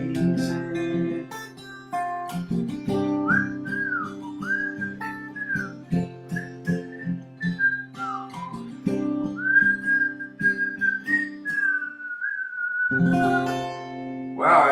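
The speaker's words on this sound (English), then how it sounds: "Wow, I had some whistling pucker factor going there tonight." A person whistles a song with a clear, wandering melody of sustained and sliding notes over steady instrumental backing, close and moderately loud throughout.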